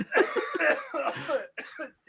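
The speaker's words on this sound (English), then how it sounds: "Why am I coughing so much?" A man coughs several times in quick, harsh bursts, close and loud, with a brief pause before a final cough.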